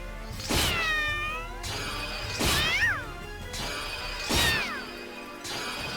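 Three loud meows from Axel's cat in the video game Disgaea 4, each a drawn-out wavering cry, spaced about two seconds apart with game effects and ambience between them and no talking.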